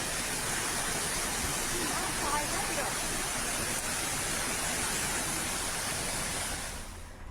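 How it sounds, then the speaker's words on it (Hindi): Water gushes hard from a burst drinking water pipeline, a loud, steady broadband roar that holds constant for about seven seconds before easing slightly at the end. "हालांकि पाइपलाइन से तेज फोर्स से पानी निकलता दिखाई दिया है।"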